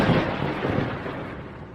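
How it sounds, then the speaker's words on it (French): Thunder rumbling before a storm, a broad, fairly loud roll that slowly fades over a couple of seconds with no voices. "il va y avoir un orage bientôt"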